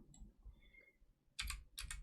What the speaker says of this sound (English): Use the keyboard to move it a little bit.